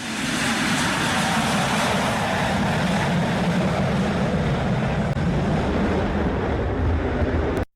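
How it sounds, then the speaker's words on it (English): Strong wind roars steadily at an airport, a loud continuous broadband rush with gusty low rumble that holds throughout and cuts off abruptly at the end. "Look at this crazy wind."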